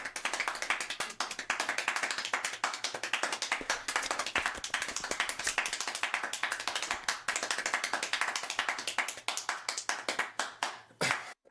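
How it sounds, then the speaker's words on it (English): Rapid hand clapping in a video game rattles on without letup for about eleven seconds, a dense, fast string of sharp claps that stays fairly loud throughout. "You hear me clapping with him just as fast?"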